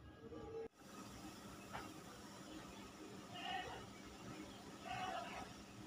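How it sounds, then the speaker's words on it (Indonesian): A pot of water with bay leaves boils on a kitchen stove, giving a steady low rumbling hiss throughout while someone speaks briefly over it. "Ini sudah mendidih ya"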